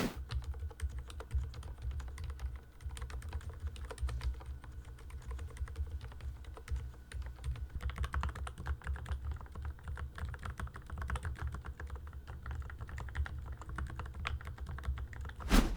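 Steady typing on a keyboard fitted with Gateron silent linear switches, soft muffled keystrokes in a quiet continuous patter, close and low in level with no talking.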